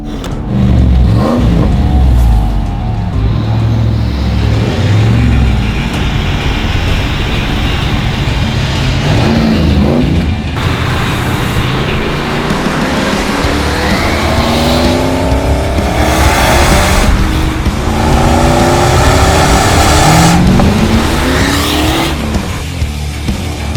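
A 1988 HSV VL Walkinshaw Group A SS with a 180-kilowatt V8 revs and accelerates hard, engine tones rising and falling through gear changes, with tire squeal and loud close passes, no talking.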